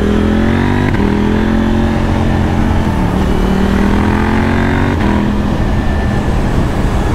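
A KTM 890 Duke R motorcycle on a family ride, its engine droning loud and steady close by, with small pitch shifts as it changes speed and wind noise continuous throughout.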